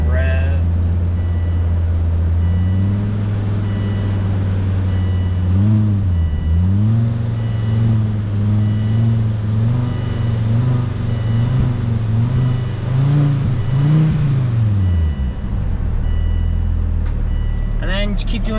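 A car engine idles and is revved repeatedly while the cooling system is bled with the heater running, rising and falling in several close, loud revs over a steady idle.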